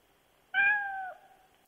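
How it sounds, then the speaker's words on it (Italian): A single recorded cat meow from a positive emotional context, a clear, fairly loud tonal call lasting about half a second and falling slightly at the end, alone in quiet surroundings. "Chi pensa che sia il miagolio numero uno in contesto emotivo positivo?"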